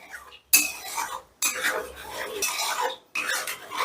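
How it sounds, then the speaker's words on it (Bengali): Curd being stirred into a spice masala in a pan, with scraping, squelching spatula strokes in bursts separated by short pauses, close and clear with no talk. "এবার দইটাকে বেশ ভালো করে আগে মিশিয়ে নেব তারপর গ্যাসের আঁচটা বাড়িয়ে দিয়ে এটাকে আবারও কষাতে হবে"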